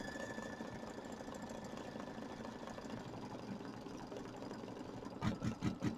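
A computerized embroidery machine runs a tack-down stitch for raw edge applique on a Kimberbell mini quilt, a steady mechanical hum and rapid needle chatter throughout, with a few louder thumping stitches near the end.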